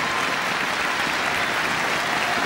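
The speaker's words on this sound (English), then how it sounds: "Both players applaud the crowd, thank them for their support" At the 2006 All England Badminton Championships, after a men's singles quarterfinal, the players and crowd applaud together, a loud, dense, continuous roar of clapping filling the arena.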